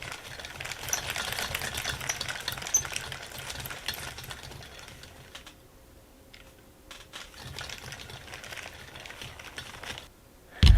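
Fishing line winding onto a spinning reel, a steady close mechanical whirring and ticking that runs for several seconds, pauses, resumes more faintly, then ends in a sharp thump.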